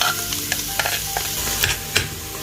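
Wild garlic soup being stirred in a pot with fried garlic and shallots, close scraping and soft sizzling with irregular clinks of the utensil against the pot, no voices.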